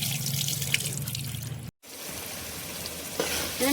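Goat head meat is washed by hand in water, with close sloshing, swishing and dripping that stops for a moment, then continues steadily.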